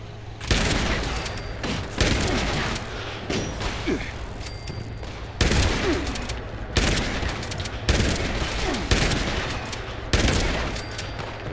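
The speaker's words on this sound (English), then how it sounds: "This shotgun is kicking some ass." Shotgun blasts in Fallout 76, a run of loud, sharp single shots spaced a second or two apart, each with a short booming tail, with faint voice and game noise between them.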